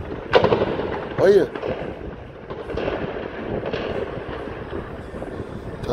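Gunfire from a bank robbery shootout echoes through a town centre in Araçatuba, with sharp distant cracks and bangs scattered over several seconds while someone speaks nearby.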